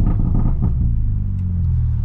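A car engine restarting after being shut off in limp mode, a steady low rumble holding close and loud throughout with no voices.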